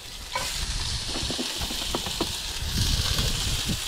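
Yabbies searing in a hot cast iron pan, a steady close sizzle with scattered crackles and pops throughout.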